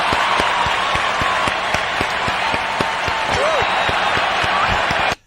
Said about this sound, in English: That was a very abrupt ending of applause, too.